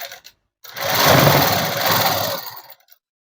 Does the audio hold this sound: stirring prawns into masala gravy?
no